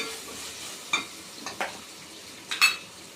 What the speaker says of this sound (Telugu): నూనెలో అల్లం వెల్లిపాయ నూనెలో బాగా వేగనివ్వాలి.